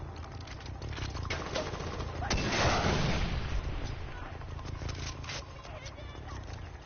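A grenade goes off in a video game as a single broad, rumbling blast that swells midway and fades over a few seconds, against background game noise and voices.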